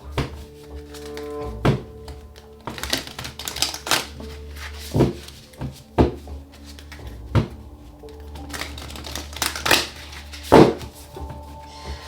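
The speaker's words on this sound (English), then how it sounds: "Okay, 2 more shuffles." Oracle of Pluto deck cards shuffled by hand up close, a run of irregular soft thumps and riffling bursts with short pauses between them, over a faint steady low hum.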